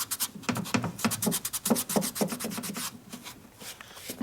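Excess sealer is rubbed off the engine cases of a 1992 Harley FXR Evolution 88ci motor, making a close, quick series of rhythmic scrubbing strokes that soften toward the end.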